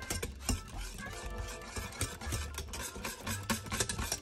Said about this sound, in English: we're just going to keep stirring that until the butter is completely melted and incorporated